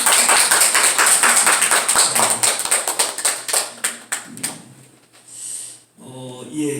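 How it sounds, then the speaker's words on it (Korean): A church congregation claps in celebration, a burst of steady rhythmic hand claps that quickly thins to a few scattered claps and dies away, followed by a voice. "그리고 우리 한번 축하의 박수 한번 더."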